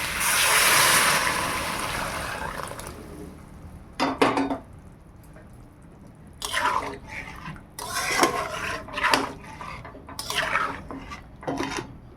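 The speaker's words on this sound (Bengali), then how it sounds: "একটা বড় ঢাকা দিয়ে দিলাম" Large lid set onto a cooking pot of chicken stew, with a rushing hiss at first followed by several sharp metallic clanks and scrapes of metal on metal at close range.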